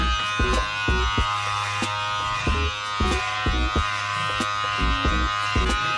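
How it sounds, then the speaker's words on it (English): Electric hair clippers with the guard open buzz close and steady, cutting hair, with short clicks and bumps as the blade moves through the hair. "I feel like I'm literally cutting my hair."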